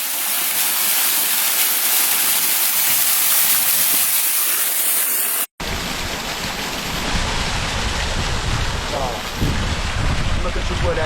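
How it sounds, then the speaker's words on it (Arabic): A natural waterfall beside a road roars steadily as loud, close rushing water. Wind buffets the microphone, and after a brief cut the roar continues with a rougher tone. "شلال ديال الماء طبيعي كاين وسط الطريق"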